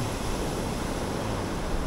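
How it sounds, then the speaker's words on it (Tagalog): Large ocean waves off the Ilocos Sur coast make a steady, broad roar of surf with wind rushing across the microphone, continuous and without voices. "ang laki ng alon doon mga tolits o"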